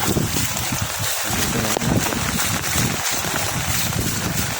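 Loud, roaring typhoon wind batters the microphone nonstop in Burdeos, Quezon, a rough broadband rumble with gusts and no voices.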